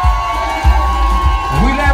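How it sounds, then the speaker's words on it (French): A crowd cheers the winners at a competition announcement in a Guadeloupe hotel, with shouts, whoops and hollering voices over a low rumble of noise. "On peut encore les applaudir s'il vous plaît."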